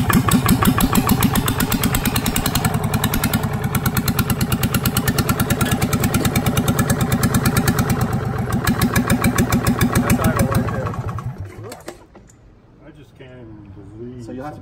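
A Yanmar 3JH3E marine diesel idles close by with a loud, steady rhythmic knock for about ten seconds, then the sound drops away sharply near the end.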